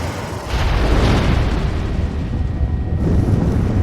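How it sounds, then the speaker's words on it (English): A fire tornado spell erupts in the video game Dragon Age Origins as a loud, sustained roaring blast, swelling after a brief lull and holding a dense rumbling burn for several seconds. "Tornado of fire!"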